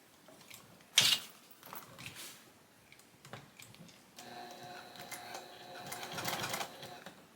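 A sewing machine stitches straight across zipper teeth while making a small bag, starting with a sharp clack, then a few soft taps before settling into a faint, rapid mechanical whir and ticking.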